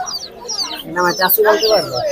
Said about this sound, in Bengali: এটা মুরগি এই সব বাচ্চা সহ নিয়ে আসছেন